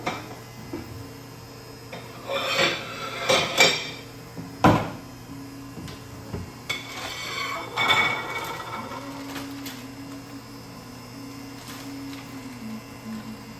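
Washing dishes by hand at home: intermittent clinks and knocks of dishes and utensils being handled and set down, with moderate clatter in bursts over a steady faint background hum, no talk.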